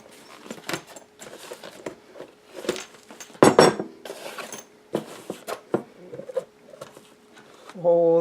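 The lid of a Hot Logic slow cooker holding pierogies is lifted, with scattered clattering and handling knocks, one sharp louder clank midway, and a brief voice at the very end.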